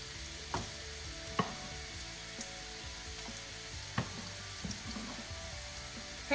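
Onion pieces and carrot frying in a pan, a quiet continuous sizzle with a few sharp taps and stirring clicks, close but low in level, no voices.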